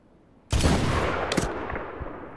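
A loud, close sniper rifle shot in Medal of Honor cracks out suddenly and rings into a long decaying echo, with a sharper second report about a second later inside the tail.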